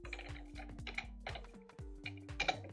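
Clicky keystrokes on a computer keyboard come in quick uneven clusters close to the mic, over a low, steady hum with faint tonal sweeps underneath.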